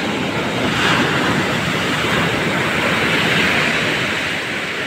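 High-tide waves surge steadily at a beach near a hut, a continuous loud roar of surf with wind buffeting the microphone throughout.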